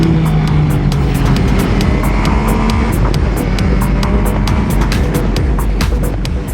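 An MV Agusta Turismo Veloce 800 Lusso motorcycle changing down through the gears with automatic throttle blips, the engine note rising and falling in loud, close bursts with a series of sharp pops.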